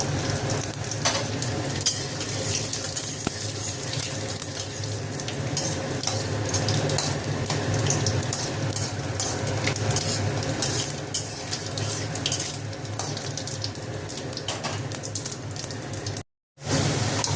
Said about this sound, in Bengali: এবার কড়াতে তেলটা দিয়েছি, ফোড়নটা দিয়ে দেবো